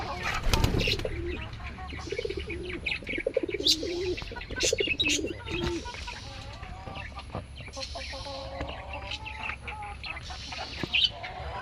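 Pigeons in a small hobby loft coo in low, repeated murmurs, clearest near the start, mixed with scattered chirps and clucks from other birds close by.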